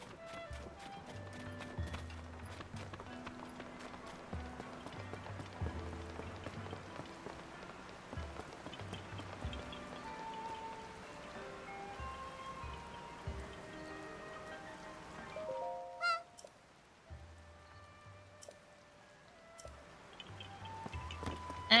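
Rain falls in The Legend of Zelda: Tears of the Kingdom, a steady soft patter beneath game music and horse hoofbeats. It breaks off briefly near the end before the sounds resume.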